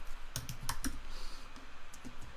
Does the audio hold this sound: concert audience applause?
no